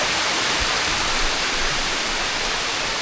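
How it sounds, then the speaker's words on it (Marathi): Near the top of a waterfall on a trek around Lonavala, a close, steady roar of rushing, falling water fills the scene without pause, with no voices. "डायरेक्ट धबधबे जिथं स्टार्ट होतात ना तिथं आलो आम्ही डायरेक्ट."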